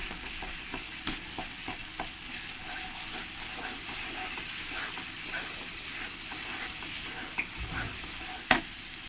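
Spices sizzle steadily in a pan as dried red chili paste is stirred in for a jackfruit kalia curry, with scattered scraping clicks from the spoon and one sharper knock near the end, fairly quiet.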